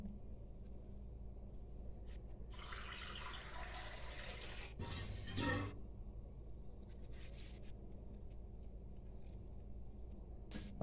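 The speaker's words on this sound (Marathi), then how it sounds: "अशा पद्धतीने पाणी घातलंय" Water runs from a tap into a pressure cooker with whole masoor lentils, a faint splashing burst that swells briefly, stops, then returns in a short, stronger gush before fading into quiet room noise.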